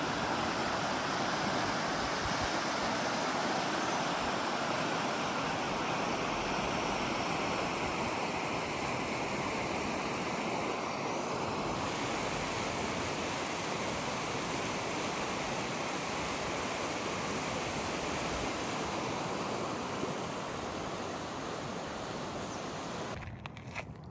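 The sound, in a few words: water flowing through wide channel under bridge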